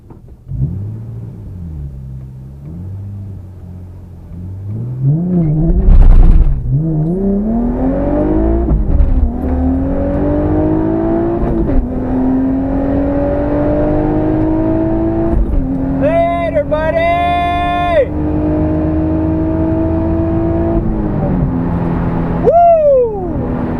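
An Infiniti G35 at the drag strip revs and pulls hard through rising engine sweeps, with a whistling whine climbing over the loud rumble and one brief high spike late on; a voice talks over parts of it.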